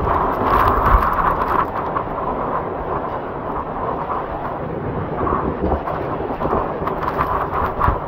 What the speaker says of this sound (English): Wind's blowing really hard.